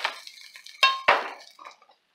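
Cube steak pieces are set into a metal baking tray in a quiet kitchen: light rustling and taps, then two sharp metallic clanks close together, fading to a few soft knocks.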